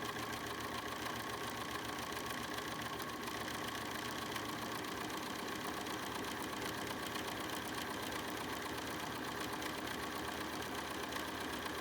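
A BERNINA sewing machine fitted with a #88 bias binder attachment stitches a face mask, a steady, even mechanical whir with rapid needle ticking running continuously at moderate level.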